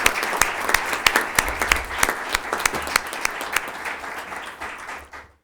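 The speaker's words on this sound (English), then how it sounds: "Can we give Alvin a round of applause?" Applause for a person at a Board of Education meeting: a room of people clap in a brisk, sustained patter that fades out over about five seconds.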